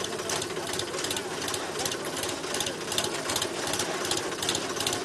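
A tractor engine runs during a beach cleanup at Girgaon Chowpatty after Ganesh immersion, chugging in a steady, rapid rhythm at moderate volume.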